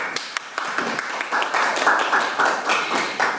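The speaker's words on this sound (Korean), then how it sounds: "다시 한번 박수 부탁드리겠습니다" Audience at a Korean public debate on medical innovation and access to healthcare applauds a speaker, a few scattered claps swelling into sustained, fairly loud clapping from the hall.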